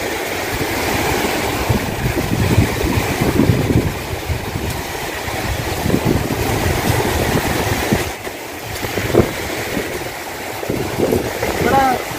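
Sea waves roll onto the shore along the coast at Thankassery in Kollam, a loud, continuous rushing roar with a brief dip partway through and faint voices underneath.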